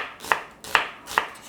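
A knife slices half an onion on a cutting board for a stir-fried zucchini side dish. Three sharp, even chops land about half a second apart, close and clear, with no talking.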